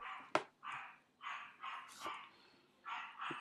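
A dog barks in short, irregular bursts indoors, several sharp yaps and barks spread across a few seconds at moderate distance, with quiet gaps between them.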